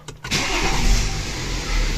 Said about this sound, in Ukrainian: Спробуємо запустити двигун.